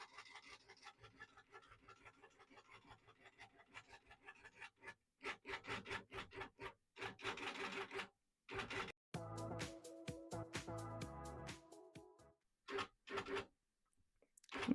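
A longarm quilting machine stitches a quilt with a faint, rapid rhythmic clatter, falling quiet in short gaps between bursts of stitching and then stopping near the end.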